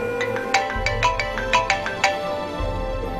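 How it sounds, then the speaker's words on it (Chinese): In a hospital emergency room, a mobile phone ringtone repeats a bright melodic pattern of short, evenly spaced tones over a low background hum, with no talking. "林生电话 不管他，"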